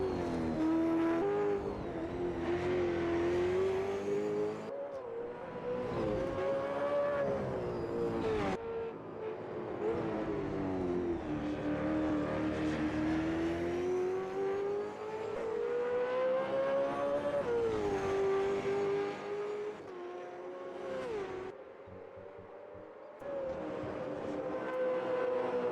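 Race cars lap Bathurst in a racing video game, their engines roaring loudly and continuously, pitch climbing and falling through gear changes with no talk.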